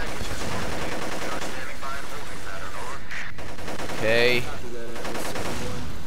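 Gunfire in the PS2 shooter Black: rapid, continuous bursts of shots crackle close throughout, with a brief spoken word from a player partway through.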